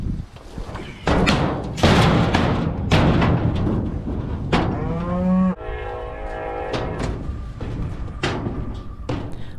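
Cattle being worked through a tub and chute on a farm low repeatedly in loud, close moos, with metallic slams and thuds of the handling gear between the calls.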